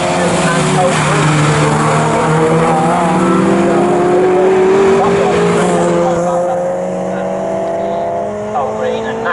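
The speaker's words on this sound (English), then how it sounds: "Peters and Green now on lap 7 of the race" MG race cars at Snetterton circuit scream past in a loud, continuous engine drone, the pitch sliding as several cars pass in close succession, while a commentator talks over the racing.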